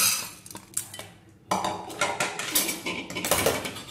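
Roasted urad dal is tipped into a pressure cooker with continuous close metallic scraping and clattering of a spoon against the vessels, getting busier toward the end.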